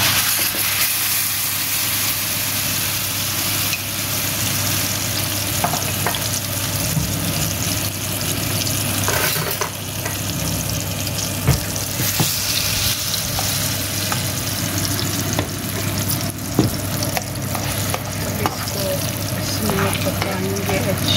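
Roasted aubergine mash frying in desi ghee, a steady, close sizzle that runs the whole time with scattered clicks and scrapes from stirring and a faint low background hum.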